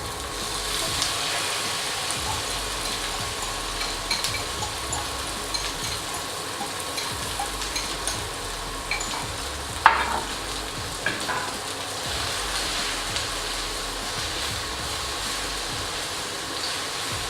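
Beaten egg poured into a hot pan fries with a constant crackling sizzle, broken by occasional spatula scrapes and clinks as it is stirred and scrambled, heard up close with no talking.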